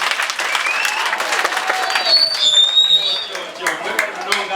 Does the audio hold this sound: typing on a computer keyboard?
no